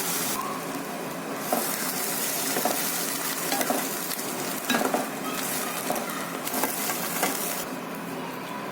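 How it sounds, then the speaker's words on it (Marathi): Green peas dry-roasting in a hot kadai over a low flame give a steady crackling sizzle, with occasional soft stirring scrapes and clinks of a spoon against the pan, close and unbroken, with no talking. "आपण त्याच्यात टाकू वटाने आणि वाटाणे छान कमी गॅसवर भाजून घ्यायचे आपल्याला"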